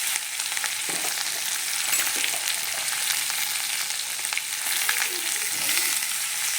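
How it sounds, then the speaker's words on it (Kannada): Chopped capsicum fries in plenty of oil in a pan, giving a loud, continuous close-up sizzle with occasional stirring scrapes and no talk. "ಇದನ್ನು ಎಣ್ಣೆಯಲ್ಲಿ ಚೆನ್ನಾಗಿ ಫ್ರೈ ಮಾಡ್ಕೋಬೇಕು."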